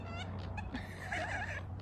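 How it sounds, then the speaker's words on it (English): Ducks kept by a family, quacking wildly in a continuous, loud, overlapping chorus over a steady low background hum, with several calls stacking up at once. "These ducks are going wild."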